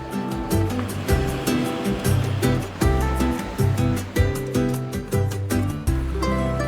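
Waves break on a beach in a steady, close surf wash, with repeated surges rolling in every second or so and no voices.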